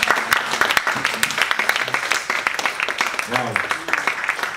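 A church congregation applauds the Lord together, rhythmic clapping sustained for several seconds with voices and cheers mixed in, close and fairly loud.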